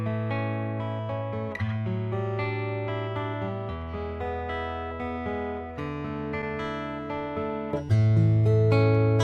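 Acoustic guitar heard through a standalone Skysonic PRO-1 soundboard transducer pickup, strummed and picked in a continuous flowing passage of chords and single notes, close and full-bodied with bright string attacks.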